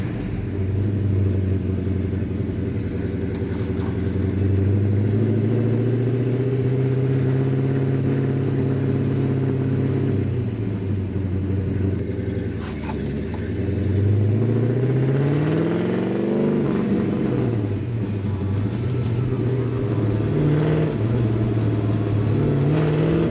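A 1967 Hemi GTX convertible drives and accelerates, its V8 rumbling loud and close as the engine pitch climbs through gears, drops on shifts and rises again, with no talk over it.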